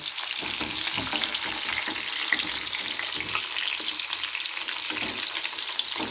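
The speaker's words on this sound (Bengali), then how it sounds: "আলুটাও আমার ভাজা হয়ে গেল" Potato pieces frying in leftover oil from frying leta fish, a steady crackling sizzle with occasional spatula stirs, fairly close and continuous, no voices.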